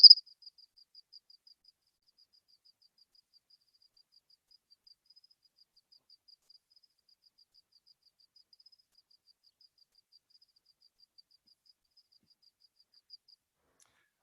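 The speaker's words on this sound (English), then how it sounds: "I'm going to attempt to play you a cricket song" A cricket song played back over a call, a thin high steady trill of rapid chirps running for about fourteen seconds, faint and distant, alone with no talk.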